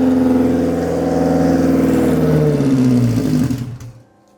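An AWD Honda Civic engine runs with a loud, buzzing idle that sags in pitch and then cuts out, leaving near silence at the end.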